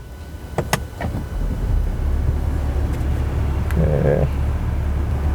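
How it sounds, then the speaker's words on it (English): A few soft clicks precede the start of a 2021 BMW 530d G30 facelift diesel engine, which catches and settles into a low, smooth, steady idle inside the cabin. "Let's start the engine."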